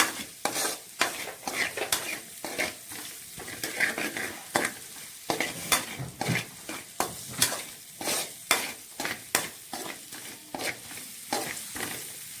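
Onion sautéing in oil in a pan for a brinjal curry: a steady sizzle broken by repeated scraping stirs of a utensil against the pan, close and alone.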